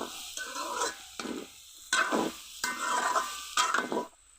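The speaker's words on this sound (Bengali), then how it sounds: "ভালো করে ভেজে নিব" Prawns fry in a pan with chili powder, chopped onion, green chili and a little sugar. Four or five bursts of scraping stirs sizzle up close, with brief quiet pauses between them.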